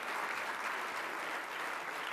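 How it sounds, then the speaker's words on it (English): Steady, dense applause from a seated audience at a morning breakfast program, a continuous even wash of clapping with no voices. "May I ask for one round of applause and thanks for all of these individuals' support."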